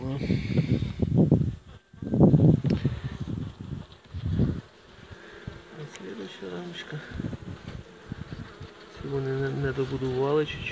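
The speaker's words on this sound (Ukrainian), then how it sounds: "Ну що, доволі спокійна пчела." Italian honey bees (Apis mellifera ligustica), a calm colony, buzz steadily at an open hive while frames are inspected, a close continuous drone rising and falling, partly under someone speaking.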